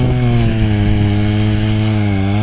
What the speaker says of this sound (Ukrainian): давай каже, бензопилою виріжемо